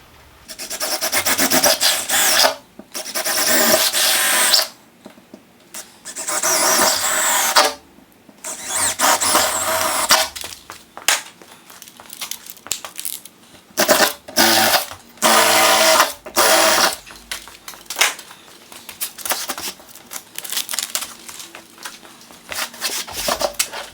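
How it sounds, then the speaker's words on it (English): Repeated bursts of harsh, grinding drilling as a drill bit dimples a metal garage door, starting and stopping in uneven spurts, loud and close with no talking. "So you can see I dimpled it with the drill bit"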